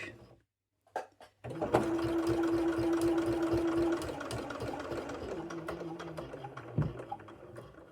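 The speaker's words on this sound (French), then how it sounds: "Donc je viens et je vais venir coudre jusque pile mon angle." A sewing machine stitches bias binding toward a fabric corner, starting after a short pause with a fast steady whir of the needle that slows slightly near the end, close and clear.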